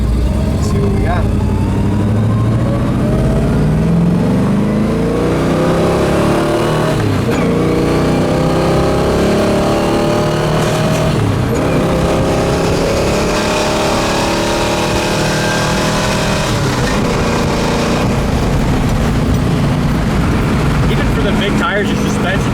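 A 1970 Chevelle with a small-block V8 and tri-power carburetion roars on the road, revving hard through the gears with repeated rising pulls and shift breaks, loud and close, while someone talks over it.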